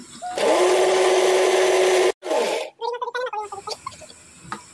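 A mixer grinder whirs loudly at a steady pitch while grinding masala paste with a little added water for egg curry, cuts off abruptly, restarts briefly, then winds down with fading mechanical rattles.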